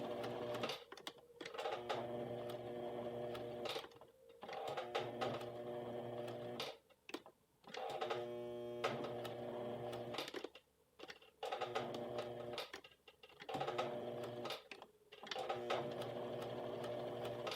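A sewing machine stitches a curved shirt collar for a western blouse at a short 1.5 stitch length, running in steady close bursts broken by brief pauses, with no voices.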